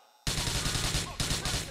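Gunfire in Grand Theft Auto 4 bursts in abruptly after a quiet moment and keeps going as rapid, loud, close volleys. A second burst follows about a second later.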